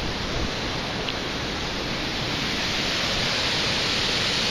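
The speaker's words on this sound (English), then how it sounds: "You can hear the water, see the water." A dense, constant roar of rushing water fills the whole stretch, broad and unbroken like a powerful river nearby, beside a damaged century-old bridge near Ozark, Missouri.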